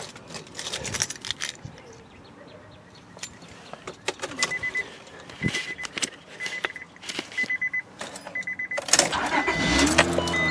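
A 2004 Honda Odyssey engine with freshly changed spark plugs cranks, catches and settles into a steady idle close by. Scattered clunks and jangling keys sound over it before the low running rumble takes over at the end.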